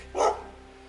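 A single dog bark on a walk through Mid Wales woodland in the Cambrian area, one short loud burst near the start that fades into quiet background.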